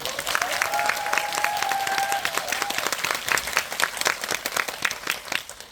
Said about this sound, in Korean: 다시 한번 세 분께 박수 부탁드리겠습니다